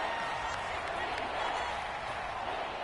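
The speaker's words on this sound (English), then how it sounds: "This crowd turning up the decibel level." Stadium crowd noise in a Madden football video game, a steady broad roar of cheering fans sustained throughout at moderate level with no clear breaks.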